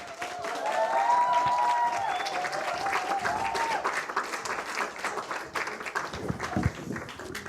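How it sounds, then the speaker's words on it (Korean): Sustained applause from a church middle- and high-school youth group welcoming an evangelist to the front, steady dense clapping that swells early and holds throughout with a faint voice or tone briefly over it. "우리 박성준 전도사님 나올 때 우리 한번 박수로 한번 맞이해 주셨으면 좋겠습니다"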